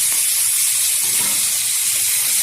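Small hilsa fish hiss and sizzle loudly in a hot pan of oil, a dense, steady frying sound held close up and alone.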